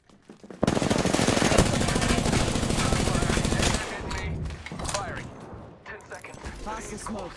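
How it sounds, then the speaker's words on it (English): Automatic weapon fire from the video game Apex Legends rattles in a loud sustained burst for about three seconds, then gives way to scattered shots and game effects, with a voice speaking briefly. "Firing."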